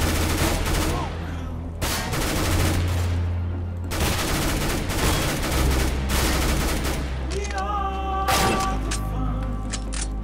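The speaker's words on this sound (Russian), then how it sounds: "Как ты меня из дробовика убил?" Shotgun blasts and other gunfire in a CS:GO one-on-one match, several loud shots in a row over steady game background noise, close and sharp.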